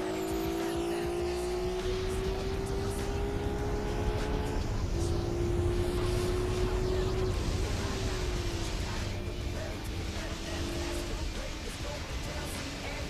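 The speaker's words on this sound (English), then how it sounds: "I hear an airplane" An airplane passes overhead as a steady broadband roar with a slowly gliding drone, sounding continuously at moderate distance over the full stretch behind game racing-car engine noise.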